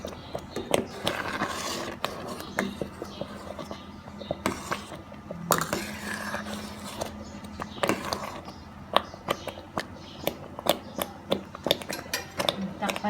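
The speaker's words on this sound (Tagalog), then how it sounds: "Halo-halo lang po siya para hindi po siya dumikit dito sa kasirola." Ginataang munggo, a mung bean and coconut stew, is stirred in a cooking pot, with repeated scraping clinks of a utensil against the metal at an uneven rhythm, close and fairly loud throughout.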